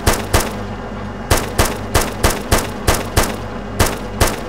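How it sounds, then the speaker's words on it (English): Gunfire in Arma 2 during a Wasteland tank attack: loud, close, booming shots at a steady rhythm, about ten in under five seconds, each with a short rumbling tail. "Nice shooting, Jonny"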